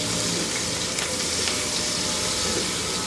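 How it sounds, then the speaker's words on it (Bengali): Sliced onion, garlic and dried red chillies fry in mustard oil in a pan, giving a constant close sizzling hiss that holds steady throughout, with no speech. "এগুলা একটু বাদামি করে ভেজে নিব।"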